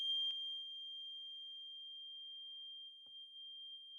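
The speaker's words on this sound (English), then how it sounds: "What are the odds that a fire alarm goes off?" Fire alarm going off in a student dorm, a single piercing high-pitched tone held continuously and alone, with a faint click or knock partway through.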